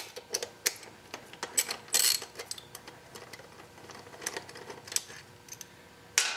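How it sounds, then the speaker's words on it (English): Caliper mounting bolts are removed from a 2009 Kawasaki motorcycle, giving sparse close metallic clicks, ratchet ticks and taps at an irregular pace over a quiet background. No voices. "I can remove the caliper mounting bolts."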